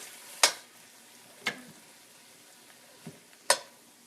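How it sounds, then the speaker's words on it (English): Braciole simmers slowly in sauce on low heat, with a quiet background broken by four sparse, sharp plops or pops spaced about a second apart, close and otherwise calm with no talking. "you put it into your sauce. And then that's just on a low simmer."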